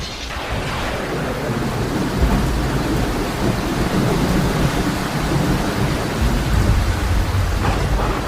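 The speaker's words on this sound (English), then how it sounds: "a fresh downpour of rain began" A heavy downpour of rain pours steadily during flooding in China as thunder rumbles low and continuous underneath, loud and close throughout.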